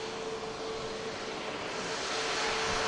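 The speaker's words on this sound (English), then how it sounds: "the beautiful Egypt Air Neo 321 aircraft heading back to base" An Egypt Air A321neo airliner heading back to Cairo from Manchester Airport gives a steady, broad jet engine roar with a faint whining tone. The sound holds evenly and grows slightly louder toward the end.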